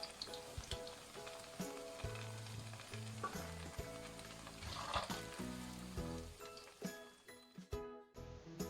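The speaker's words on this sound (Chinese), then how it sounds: "复炸大约15秒钟左右，丸子颜色已经变得金黄，然后捞出来控油装盘。" Tofu balls crackle and sizzle steadily in hot oil as they deep-fry a second time, with a few clinks of a utensil against the pot and the bubbling dying down near the end.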